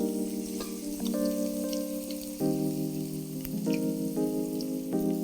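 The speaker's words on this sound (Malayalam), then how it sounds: "ഇനി എന്നാ ചെയ്യേണ്ടതെന്ന് വെച്ചാൽ ഈ അരിഞ്ഞു വെച്ചേക്കുന്ന സവാള ഇതിനകത്തോട്ട് ഇടുക." Chopped onions frying in a pan with cloves and a piece of cinnamon, a continuous close sizzle and crackle under sustained musical tones that shift pitch in steps.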